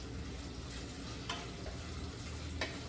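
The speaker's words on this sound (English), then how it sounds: "You want the bacon to get nice and crispy in here." Bacon sizzles in a pan with cabbage nearby, a faint, steady crackling hiss broken by two brief scraping clicks as it is stirred.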